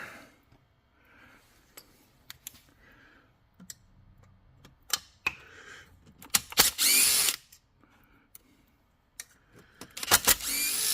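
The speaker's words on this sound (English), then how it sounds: "I'm just going to pull the muffler off here." Short bursts from a power driver or tool whir and tick intermittently while the muffler is being removed from a Stihl MS660 chainsaw, with quiet gaps and small metallic clicks between the louder runs.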